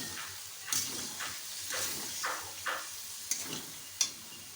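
Spice masala sizzles softly in a pan beside dried red chillies while a spoon stirs and scrapes it in irregular strokes, with a few sharper clinks over a quiet frying hiss.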